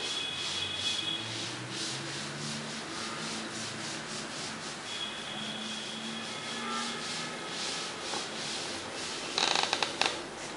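A writing board is rubbed clean with repeated brisk back-and-forth strokes, close and fairly quiet, in a math classroom, with a few sharper taps near the end and no talking.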